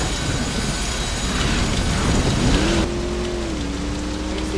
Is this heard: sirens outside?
no